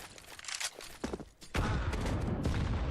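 A grenade goes off in a Counter-Strike: Global Offensive match, with a sudden broad burst that swells and holds loud after scattered gunfire and footsteps.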